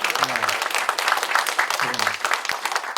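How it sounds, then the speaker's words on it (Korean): A church congregation gives a burst of applause at a spring semester opening service of a seminary, dense clapping filling the whole moment with a few voices mixed in. "박수 한번 해서."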